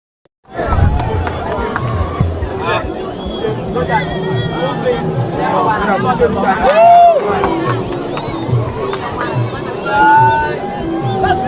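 Big football crowd at a Nebbi Central FC versus Iganga United match, a loud continuous hubbub of voices with shouts and cheers rising and falling, some clearer calls standing out near the front.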